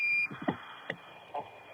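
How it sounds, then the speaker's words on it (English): The Apollo 11 lunar module's 1201 program alarm sounds as a steady high tone through radio static while a crackly voice speaks over it; the tone drops out and returns at the end. "Roger, 1201 alarm."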